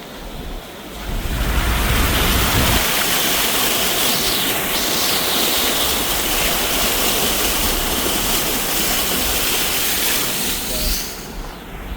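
Loud, steady rushing of floodwater pouring and churning over a crossing near Jim Corbett, a continuous roar lasting throughout with little change.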